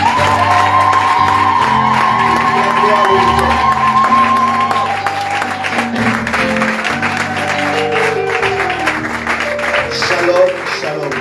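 A church congregation applauding and cheering, loud and sustained, with shouts and voices mixed into a bright wash of clapping over held musical tones, people talking throughout.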